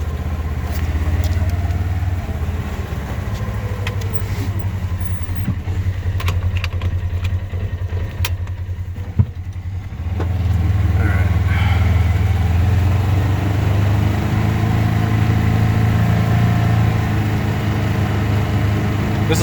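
A 2018 Polaris Ranger 1000XP utility vehicle with an upgraded ECU and clutch kit drives along a road. Its engine drones low and steady, dips briefly midway, then picks back up to an even, continuous hum with mild rattles.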